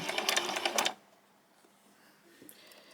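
A sewing machine back-stitches a pair of summer shorts in one fast, rattling burst of under a second, followed by near silence and faint handling noises.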